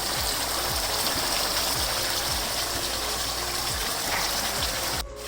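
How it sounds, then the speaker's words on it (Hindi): Water poured steadily into aloo gosht curry in a pot gives a loud continuous gushing stream with faint rhythmic scraping underneath, ending abruptly near the close. "फिर इसमें मैं पानी डालती हूँ"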